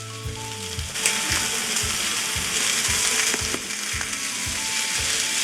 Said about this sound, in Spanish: Y ahora la vamos a sellar del otro lado.